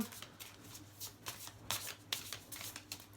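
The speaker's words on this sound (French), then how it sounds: "Et si on doit se tirer une dernière carte." Tarot cards being shuffled by hand, a quiet run of soft riffling bursts and papery flicks in steady irregular rhythm, close and alone with no talk.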